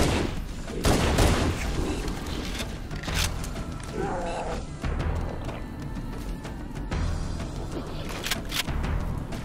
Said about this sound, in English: The first thing I do on this bridge is shoot these jackals.